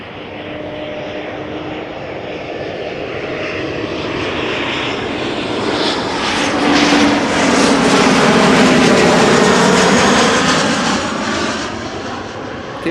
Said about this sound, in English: rapid descent now on the glide slope of runway 18 center